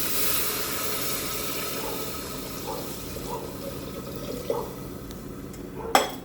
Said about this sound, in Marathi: नंतर म्हणजे लगेच टाकायचं आहे पाणी.